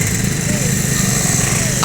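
A Sumatera Raya Trans intercity bus on the Jakarta–Padang route rolls past on a Palembang street at night, a steady loud engine drone with broadband road noise throughout.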